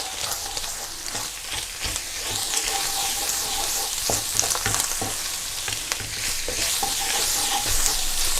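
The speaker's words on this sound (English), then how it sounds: "we need to just cook the spices in here a little bit" Spices fry on minced meat and onions in a pan for chili con carne, a steady sizzle broken by repeated scraping stirs of a utensil against the pan, close and fairly loud.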